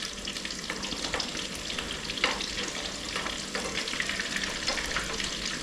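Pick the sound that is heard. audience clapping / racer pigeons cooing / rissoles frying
rissoles frying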